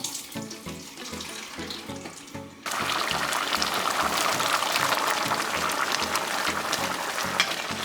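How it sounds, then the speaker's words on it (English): Water from a tin of broad beans pours steadily into a sink, a hard rushing stream that grows louder partway through and keeps running with no talking. "So usually I pour the water off."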